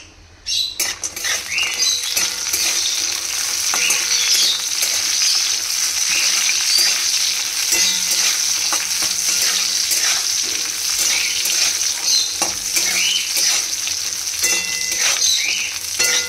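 Bori, small lentil dumplings, frying in hot oil in a pan, giving a loud, steady sizzle with scattered crackles and pops throughout, no talk.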